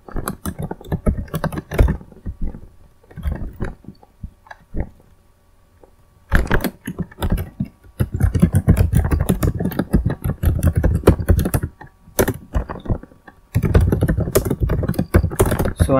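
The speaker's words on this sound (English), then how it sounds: "Then type in your C code." Someone types C code on a computer keyboard in a Linux text editor, with rapid, close, clattering keystrokes in dense bursts separated by brief pauses.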